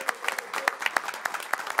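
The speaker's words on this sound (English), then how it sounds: "Let's give them a round of applause." Audience clapping at a township board meeting, a short burst of scattered, uneven claps with sharp individual hits rather than a dense roar, fairly quiet and close, with no talk over it.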